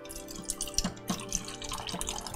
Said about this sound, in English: we're going to just pour